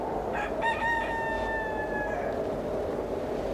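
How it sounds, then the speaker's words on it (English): A rooster crows once in a long, clear, drawn-out call on a soundstage meant to be Mars in a 1990 science-fiction TV drama, set over a steady low background hum. "A rooster crowing on Mars, sir?"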